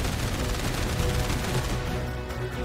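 Flare torpedoes detonate in 13 Sentinels: Aegis Rim as a dense, loud barrage of overlapping blasts and crackling bursts, sustained without pause and easing slightly near the end, with no voices.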